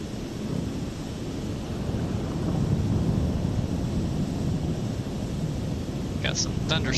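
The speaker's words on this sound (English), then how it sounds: "Hear the thunder going off there." Thunder from a thunderstorm in a Microsoft Flight Simulator 2024 airliner flight sounds as a loud, sustained low rumble over steady wind-like noise. A few brief higher chirps come near the end.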